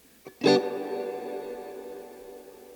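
An electric guitar played through a Wampler Ethereal reverb and delay pedal gives a single struck chord that rings out and decays slowly into a long reverberant wash.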